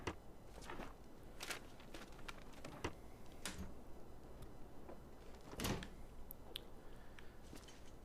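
In The Long Dark video game, drawers are opened and searched one after another. Short wooden clunks, slides and knocks come at an uneven pace over about eight seconds. They are fairly quiet and close, and nobody speaks.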